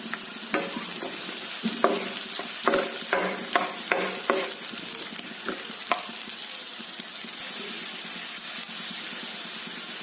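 Green chillies frying in a pan for boot bhaji, with a steady close sizzle and hiss broken by several sharp stirring clatters early on, then a calmer, even crackle.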